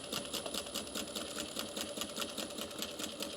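A sewing machine backstitches the seam of a personalised gift bag with a fast, steady, rhythmic stitching chatter that runs unbroken and close by.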